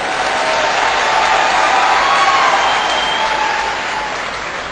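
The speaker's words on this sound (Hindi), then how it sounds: "ताली बजाओ तो फिर अच्छे ढंग से बजाओ।" Dense, loud clapping from an audience at a speech, holding steady and then easing off slightly toward the end, with no talking over it.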